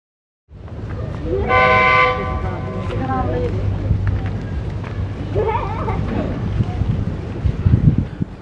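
A train horn sounds briefly, then a loud, steady rumble of a train passing close by, with wind buffeting the microphone.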